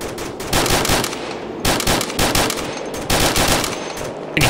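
Automatic gunfire in the military shooter ARMA 2: loud bursts of rapid shots, heard as three or four close, rattling volleys with brief gaps between them.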